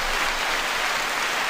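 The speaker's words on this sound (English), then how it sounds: "applause" A recorded crowd-applause effect plays from a sound board as a dense, even wash of clapping, steady and fairly loud throughout its short run.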